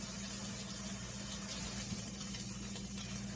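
A kitchen tap runs steadily during dishwashing, a soft constant hiss of water into a sink with faint clinks, fairly quiet and heard alone.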